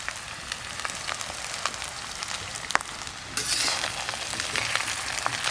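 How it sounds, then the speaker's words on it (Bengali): Fried rice sizzles steadily in a pan over a clay stove, a dense continuous frying crackle with occasional sharp pops, growing a little louder partway through as it is stirred, with no one talking. "এবার এই ভাতগুলো দিয়ে দেব।"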